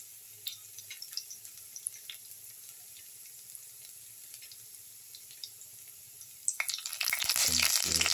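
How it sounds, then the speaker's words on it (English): Ginger and garlic fry in a pan while being stirred. Faint, sparse crackles and light scrapes come first, then a louder, dense sizzle and stirring rise sharply near the end. "Stir the ginger and the garlic together"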